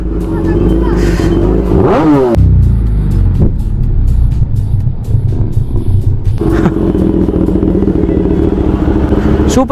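A superbike engine revs loudly at an Indian wedding, close and throaty with sharp throttle blips over crowd chatter and people talking nearby.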